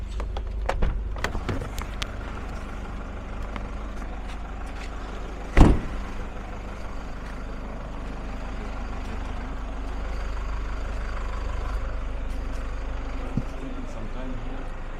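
Buses and other vehicles idle at a roadside stop in Kisumu, Kenya, engines rumbling steadily with scattered clanks and a sharp hiss of air brakes midway, while people talk nearby.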